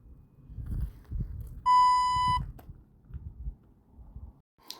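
A single clean electronic beep from a ghost hunting device during a night investigation at Clegghall, lasting under a second and standing out clearly between low, muffled rustling and faint voices.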